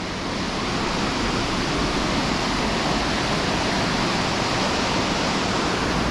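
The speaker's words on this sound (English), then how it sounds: "The river is absolutely raging." A raging river current in Struga, North Macedonia, a loud and constant broadband roar of churning water holding steady and close throughout, with no voices.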